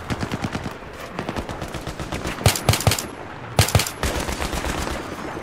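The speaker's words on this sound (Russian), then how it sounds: "Так, я слышал какой-то жесткий пулемет." Machine-gun fire in the video game Battlefield 3 rattles in rapid, steady bursts, with two louder, closer volleys standing out over the continuous shooting.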